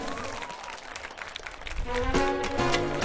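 An audience at a concert breaks into applause that swells and grows louder and denser over a few seconds, with some musical tones underneath.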